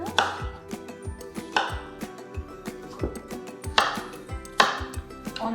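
A knife chops through food on a cutting board for a cake recipe, giving a run of close, sharp, uneven thuds about once or twice a second, with some quieter clinks between the strokes.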